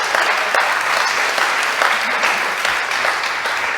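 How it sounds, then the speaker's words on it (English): A conference audience at a specialty coffee event gives a loud, sustained round of applause for a speaker, a thick continuous wash of many hands clapping without letup throughout. "One more big round of applause for Kent."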